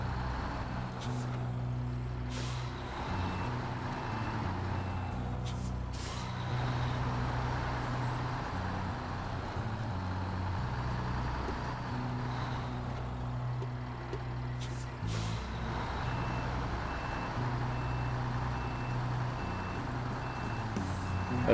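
A heavy truck in SnowRunner, towing a trailer, turns around while its reversing alarm beeps steadily over a loud, continuous low engine rumble, with brief hissing bursts from the brakes.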